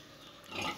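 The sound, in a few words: pigs on a farm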